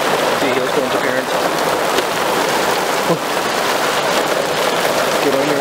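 Hail and heavy rain pelt down during a June thunderstorm in County Fermanagh, a dense steady patter of hard drops on surfaces, loud and continuous throughout with no speech over it.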